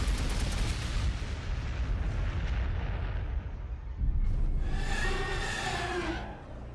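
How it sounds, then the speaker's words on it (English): Basilisk artillery in Warhammer 40,000: Gladius pounds away in a continuous rumbling barrage of distant explosions and cannon fire, with a fresh, louder volley crashing in partway through. "He all of a sudden has artillery all over the place."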